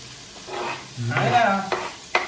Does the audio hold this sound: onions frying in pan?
yes